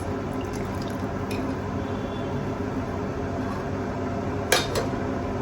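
Onion kadhi boiling steadily in a pot, a dense continuous bubbling wash with a few brief clinks near the end, no voices.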